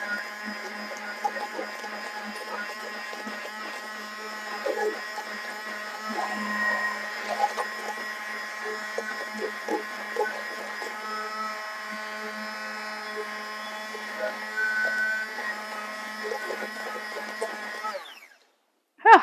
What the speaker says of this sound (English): Sometimes you need the handheld mixer to finish it.